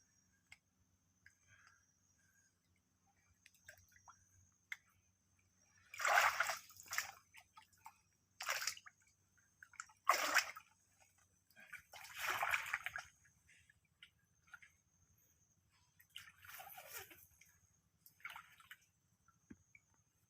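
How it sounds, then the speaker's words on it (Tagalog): Creek water splashes and trickles in scattered short bursts, close and fairly quiet, with near silence and faint drips between them. "Malupit yung sapa na to."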